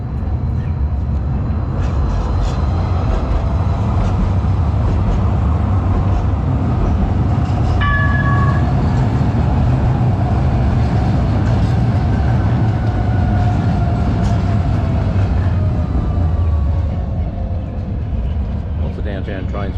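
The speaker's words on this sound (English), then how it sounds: "Another train down that way." A Calgary city train rumbles past loudly and continuously, with rolling wheel noise, a brief horn-like tone in the middle, and a faint voice under the roar.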